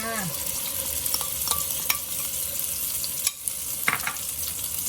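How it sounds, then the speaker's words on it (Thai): Steady sizzling of curry paste frying in hot oil over low heat, with occasional scrapes and stirs of a utensil against the pan, close up. "เอาหม้อหรือกระทะเด้อจ้ะตั้งไฟใส่น้ำมันพอห่อนแล้ว พริกแกงลงไปผัดจ้ะ"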